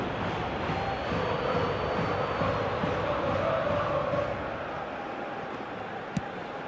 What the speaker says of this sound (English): there's a real sense that the momentum has shifted here, Peter, and the crowd are reacting to that now